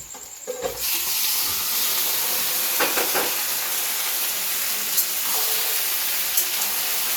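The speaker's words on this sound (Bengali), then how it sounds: "এরপর দেবো চিকেনটা ভাজবো" Chicken pieces, about 1.5 kg of washed chicken, sizzling steadily in a hot pan, a loud continuous hiss that starts as the meat goes in, with occasional sharp spits and crackles, no talking.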